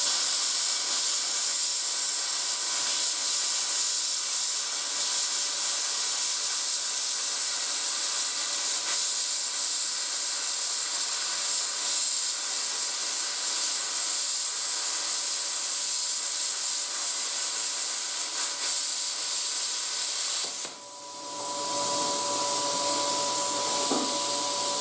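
A Harbor Freight Titanium Plasma 45 plasma cutter slices through 1/4 inch steel with a loud, steady hiss and roar that runs continuously, then cuts off abruptly near the end, leaving a faint fading tone.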